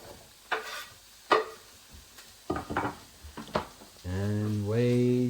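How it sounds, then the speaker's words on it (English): A spoon stirs ingredients in a home kitchen pan, giving several scattered scrapes and knocks, followed by a steady sizzle with a tonal hum near the end, fairly close and quiet. "And we stir."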